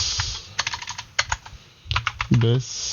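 Keyboard shortcuts tapped out on a computer keyboard in quick bursts of close, crisp keystrokes with short pauses, ending in a brief voiced sound.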